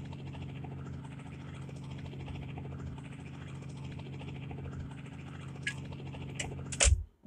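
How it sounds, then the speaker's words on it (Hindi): A helicopter lands in the mobile game Bhai The Gangster, a steady droning rotor hum that holds evenly, then a few sharp clicks and a thud as it settles at the end, with no talking. "तो लैंडिंग करवा देते हैं अपने हेलीकॉप्टर की।"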